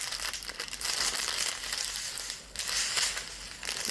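Plastic packaging being torn open during an unboxing: continuous close crinkling and crumpling with sharp crackles, loud and busy throughout, no speech.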